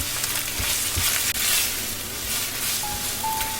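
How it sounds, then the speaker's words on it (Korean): Ground beef with paprika and ketchup stir-fried in a hot pan, a loud, steady sizzle with small scraping stirs and no talking over it. "파프리카, 케첩 4스푼 이렇게 넣고 살짝만 더 볶아주세요."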